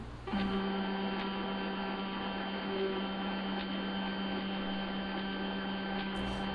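A printer runs with a continuous mechanical whir over a steady electrical hum, holding constant and fairly loud for the whole stretch with no talking.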